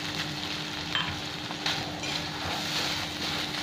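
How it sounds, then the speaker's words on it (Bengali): A spice paste of onion and garlic, with cumin and coriander powder, sizzles and crackles in a pan for egg curry, close and fairly loud, with scraping stirs over a continuous hiss. "এবার এটা খুব ভালো করে মশলাটা ভেজে নেব"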